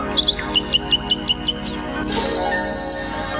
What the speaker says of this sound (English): there the little nightingale sat, singing his heart out.